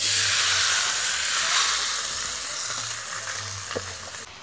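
Spiced fish mixture, small mourala fish coated in spices, sizzling and frying in a wok over a stove; a steady loud hiss with a few brief crackles and stirring clinks toward the end, no voices.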